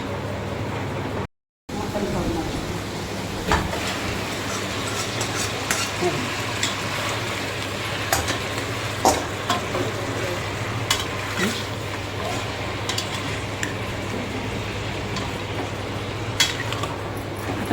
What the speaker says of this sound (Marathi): मटणाला फोडणी दिलेली आहे.